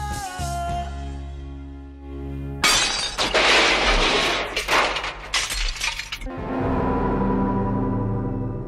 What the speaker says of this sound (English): the song, which ends with his mother smashing the mirror